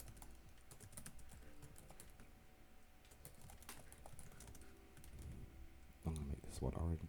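Typing on a computer keyboard produces quiet, scattered key clicks through most of the clip. A soft cluster of taps comes near the end, and someone speaks briefly in a low voice.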